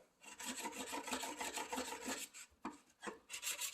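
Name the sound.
sharpening a chisel on a stone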